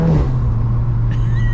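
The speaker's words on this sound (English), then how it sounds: "You can still get a little bark from the exhaust" A Stage 3 tuned VW MK8 Golf R (535 hp), exhaust valves closed, gives a steady low exhaust drone, close and fairly loud, with a faint rising whine near the end.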